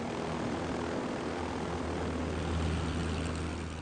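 Propeller aircraft engine in the video game Amerzone, a steady low droning hum with a slight swell toward the end, heard alone without talk.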